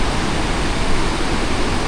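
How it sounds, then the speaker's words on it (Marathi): A rain-swollen river rushes near Dhareshwar waterfall at Marleshwar during monsoon rain, a loud, dense, constant roar of water filling the whole scene without voices. "आणि नदीचा प्रवाह बघताय का,"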